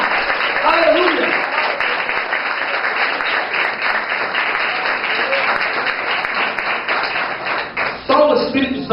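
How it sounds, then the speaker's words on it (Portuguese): A youth church congregation claps loudly and continuously for about eight seconds, a thick wash of hands with scattered cheers, then it breaks off abruptly near the end. "Aplauda ele bem forte em nome de Jesus"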